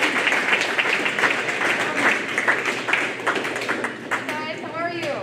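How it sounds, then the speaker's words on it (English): An indoor audience at an award ceremony applauds with a dense, steady patter of clapping for several seconds, fading as a voice begins speaking at the end. "Please give her a round of applause."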